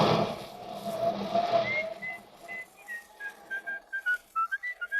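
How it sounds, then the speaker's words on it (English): A man whistles a tune in an old radio drama, a series of short rising and falling notes that start softly under background sound and grow clearer and more clipped toward the end. "Cut out that whistling."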